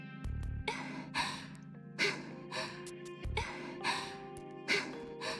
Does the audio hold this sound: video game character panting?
yes